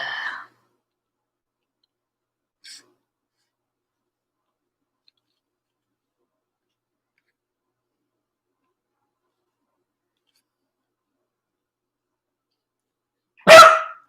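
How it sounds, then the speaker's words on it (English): A dog gives one loud, close bark near the end after a long stretch of near silence, with a brief faint click earlier on. "my dang dog just barked and freaked me out"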